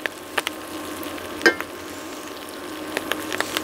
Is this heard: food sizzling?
yes